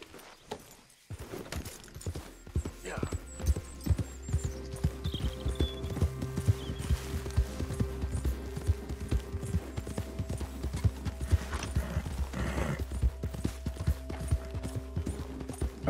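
Rhythmic clip-clop of horse hooves trotting at a steady pace in Red Dead Redemption 2, with game-like mechanical tones and a brief whinny in the background.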